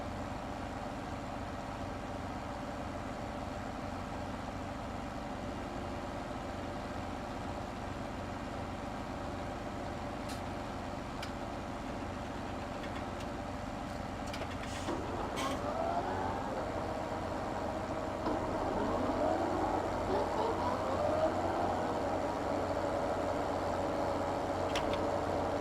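Tractor with a mower attachment idling in Farming Simulator 2017 gives a steady, low, fairly quiet engine drone. The hum thickens and rises a little partway through as the engine works harder, with no talking.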